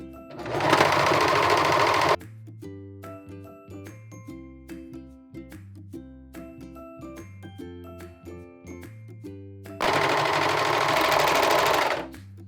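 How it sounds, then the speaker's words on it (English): A serger overlocks the edges of cut fabric pieces for a pair of high-waisted shorts, running in two loud, steady whirring bursts with quiet background music between them. "Let's serge the edges of everything we have here"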